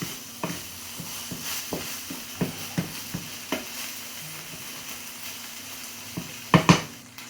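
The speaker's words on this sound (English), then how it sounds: "So it's starting to make that noise. It's starting to catch on the bottom." Quiet sizzle of mushroom risotto starting to catch on the bottom of the pan, with a spoon repeatedly scraping and stirring, soft irregular knocks against the pot and a couple of louder clinks near the end.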